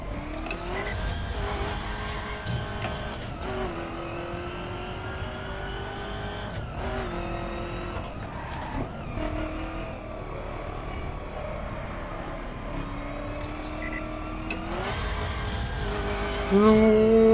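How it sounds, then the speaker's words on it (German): A car in The Crew racing video game slides off the track, its engine droning and shifting pitch with revs while tires squeal and skid, loud and continuous from start to finish. "Ich wollte auch nicht schon wieder, dass der Wagen komplett von der Strecke geschleudert wird."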